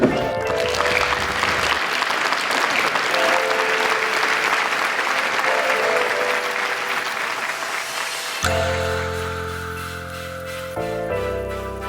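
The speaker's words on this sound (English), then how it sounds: "And then a round of applause for these kids up here." An audience claps for a group of kids at a wrestling event, with sustained, dense applause running for several seconds before it fades under music that comes in near the end.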